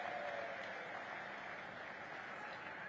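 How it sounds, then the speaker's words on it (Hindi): Crowd applause at a political rally in Banswara welcoming Narendra Modi; a faint, steady wash of distant clapping continues evenly throughout with no voices on top. "मोदी जी का एक बार जोरदार तालियों के साथ स्वागत और अभिनंदन करें"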